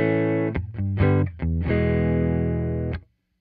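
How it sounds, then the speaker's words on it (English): An electric guitar's dry signal, with no effects, through a Hothouse DaisySeed DSP pedal plays a few short, clean chords, then one sustained chord rings out and cuts off into silence. "So here's the dry signal sound."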